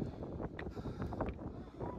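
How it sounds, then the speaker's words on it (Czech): Wind gusts buffet the microphone atop a tall tower in Sri Lanka, a low, rumbling fluttering noise that rises and falls over a couple of seconds with no speech. "Fouká tady dost."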